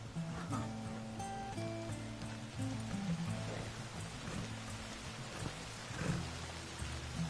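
Heavy rain pours steadily in the Red Dead Redemption 2 game world, a dense continuous hiss with a soft low rumble and horse-like hoof and footstep thuds underneath, no talking.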